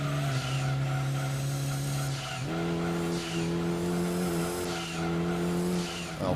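Mitsubishi Lancer Evolution race car in Gran Turismo 2, its engine droning loud and steady with shifts in pitch as gears change, tires squealing faintly under the continuous roar.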